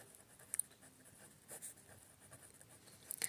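Quiet scratching of something writing on a board or paper during a math lesson, soft and faint with a few brief sharper strokes.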